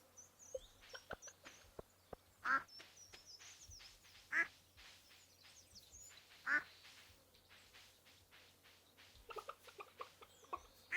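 Ducks in the farming game Stardew Valley Expanded quack in repeated short calls scattered among clicky game sound effects, with a few louder quacks standing out.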